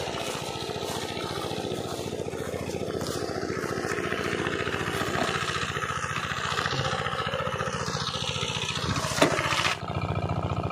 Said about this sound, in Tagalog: maandar na yung makina natin.